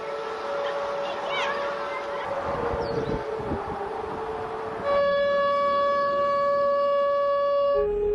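An air raid siren being tested in a Russian city wails with steady sustained tones over wind-like background noise, then swells louder and fuller about halfway through, sounding distant but prominent.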